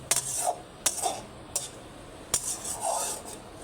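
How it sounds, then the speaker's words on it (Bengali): A spoon scrapes and clinks against a pan as spice paste is stirred and fried for a fish and taro curry. The sharp metallic strikes are intermittent, with a soft sizzle underneath and no talking. "এই যে মশলাটা কষায় নিচ্ছি"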